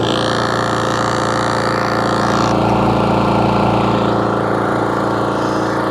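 An EcoFlow SG4000 generator's engine runs steadily and close by, its hum shifting to a higher, fuller pitch about halfway through as it comes out of eco mode and revs up, with no talk.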